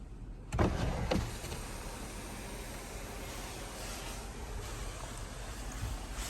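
The panoramic sunroof on a 2021 Ford Explorer runs on its electric motor, a low steady mechanical whir that starts with a couple of soft clicks and then holds evenly inside the quiet cabin.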